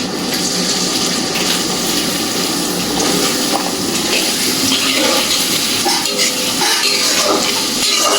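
Chopped onion dropped into hot oil with whole bay leaves for a broiler chicken kosha, giving a steady, loud, dense sizzle and bubbling with faint stirring and utensil clinks throughout.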